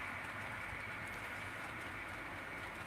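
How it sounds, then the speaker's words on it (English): A faint, steady whirring rumble of a model train running along its track through a fiddle yard, continuous throughout with no voices. "I can run trains round through my fiddle yard."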